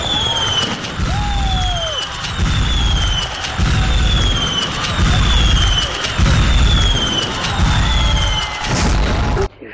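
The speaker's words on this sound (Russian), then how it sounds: "А сейчас наслаждайтесь салютом." A festive fireworks salute for a 70th jubilee: rapid rolling booms and crackling bursts follow one another loudly and continuously, with whistling rockets rising over the din.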